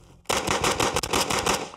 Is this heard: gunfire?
yes